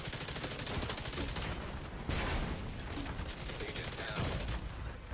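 Sustained automatic gunfire in The Division 2, with dense rapid bursts of shots continuing throughout, loud and close with heavy layered reports.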